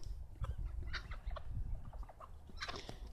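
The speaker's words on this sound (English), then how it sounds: "The chickens are just cleaning up." Chickens pecking through scattered chunks of hamburger and ham sandwich leftovers, with soft clucks and gobble-like calls repeating close by over a busy scratching background, no talking.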